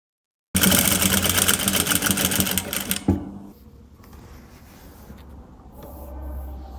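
A sewing machine runs fast and loud while stitching bias tape around a blouse neckline, its even rapid chatter lasting about two and a half seconds before stopping abruptly, followed by quiet room noise and a faint low hum.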